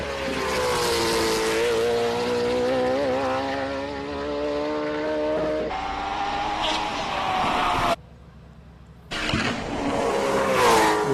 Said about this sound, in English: Perhaps one of the most beautiful sounding cars that we have here.